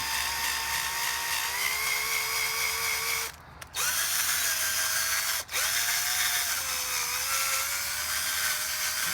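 A power tool trims a brass rifle cartridge case to size for a 7.7 Type 99 Arisaka case conversion, giving a loud steady whine that breaks off twice briefly and shifts in pitch as it cuts.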